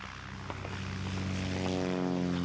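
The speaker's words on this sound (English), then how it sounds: "It's one of them planes from the airfield, I expect." A propeller airplane from a nearby airfield drones overhead, a steady low engine hum with stacked harmonics that swells slightly as it passes, heard alone without talk.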